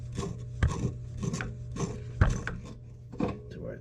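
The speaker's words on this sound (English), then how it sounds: "So I'll try getting this one up with my channel locks" Channel lock pliers turn a well pressure switch fitting in short, rhythmic scraping and ratcheting strokes, about one every second, close up and fairly quiet, with no talking.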